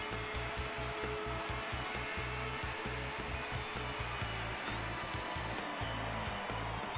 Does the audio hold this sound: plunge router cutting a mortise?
yes